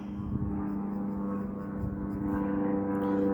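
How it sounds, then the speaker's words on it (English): An aeroplane flying overhead makes a steady, low droning rumble that swells slightly toward the end, distant and continuous with no voices. "I'm hearing an aeroplane above me."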